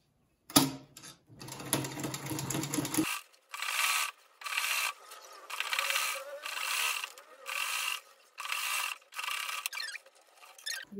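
A sewing machine stitches down the edge of a women's trouser, whirring in about eight short rhythmic bursts with brief pauses between, after some initial handling clatter, close and clear.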